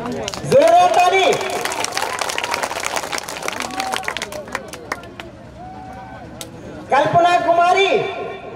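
Applause at a school ceremony honoring top-ranking intermediate students, a dense clapping crowd with hubbub that surges loud early, thins in the middle, then swells again near the end, with voices mixed in.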